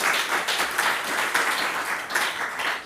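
A conference audience in Brussels applauds, a dense, steady wash of many hands clapping together at moderate distance, without a break.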